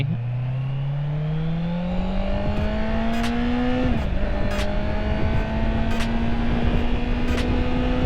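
A Honda CBR650R inline-four with a cut, straight-through exhaust revs steadily higher, its loud, close engine note climbing in pitch for several seconds, dipping briefly as it shifts, then pulling up again.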